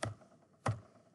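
Two separate keystrokes on a computer keyboard while typing a color code, crisp close taps about half a second apart in a quiet room.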